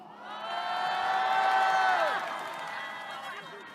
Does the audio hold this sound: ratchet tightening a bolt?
no